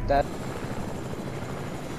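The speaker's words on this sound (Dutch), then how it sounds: "Eigenlijk moeten we niet met de fucking heli gaan hoor." A helicopter in the Fortnite video game makes a steady, whirring rotor drone throughout, with a brief louder blip at the start and a voice speaking over it.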